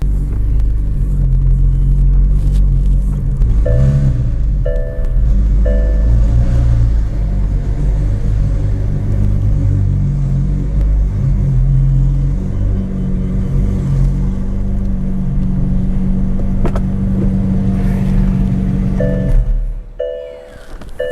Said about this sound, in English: now we're gonna just pull my McLaren and see how cool it looks inside